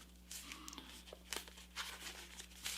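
Paper is folded and creased by hand while making a paper airplane, producing soft, intermittent crinkles and rustles that stay faint and close.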